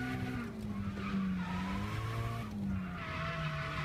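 Car drifting on a racetrack at night on a Japan drift trip, with long loud tire squeals and skids over a droning engine, heard from nearby and continuing without pause.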